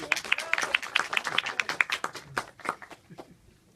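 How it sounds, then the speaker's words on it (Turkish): Scattered audience applause at a Turkish talk program, a few dozen distinct hand claps in a quick uneven rhythm that thins out and fades toward the end, fairly close and clear. "Alkış. Bravo."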